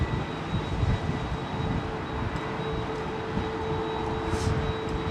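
An Airbus A330 airliner with CFM engines at Heathrow runway 27R makes a steady distant jet roar that stays level throughout, with no voices.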